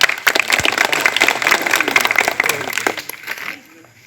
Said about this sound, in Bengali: আমরা সবাই হাততালি দিয়ে থাকে